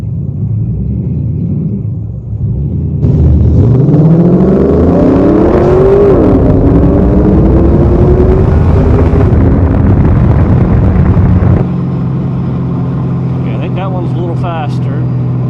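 A 2002 Camaro SS with 3.90 gears launches on a 0-60 run, a loud close engine roar climbing through the revs for several seconds before easing off, heard from inside with a brief voice afterward.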